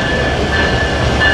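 Train at Kamalapur railway station platform in Dhaka, a brief steady rumble and clatter of railcars with a thin high tone running through, no voices.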